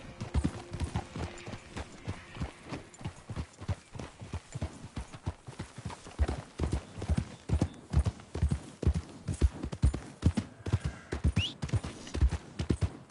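Horse hooves clip-clopping in Red Dead Redemption II, a steady rhythmic gait of sharp, close hoofbeats that continues throughout, with occasional snorts and faint background game ambience.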